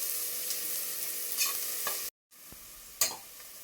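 Onions and tomatoes sauté in a pan for a Kerala-style chicken curry, giving a steady, close sizzle with a few scraping stir strokes. The sizzle breaks off briefly, then resumes.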